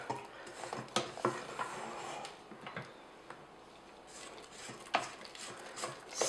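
A spatula scrapes along the sides and bottom of a mixing bowl of fluffy vanilla cake batter. It makes close, irregular scraping strokes with soft clicks against the bowl, and no one talks.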